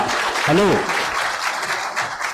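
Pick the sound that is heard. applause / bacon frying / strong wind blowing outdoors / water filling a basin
applause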